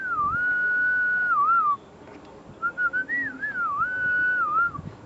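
A human whistle signal used while fishing to alert others that fish are nearby: two long, sustained whistled phrases with wavering, sliding pitch, separated by a short pause, clear and fairly close over faint background noise.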